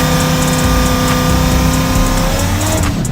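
A Chevrolet Caprice engine holds a loud, sustained rev with one wheel spinning, a continuous roaring drone heard up close. The tone shifts near the end as the revs drop.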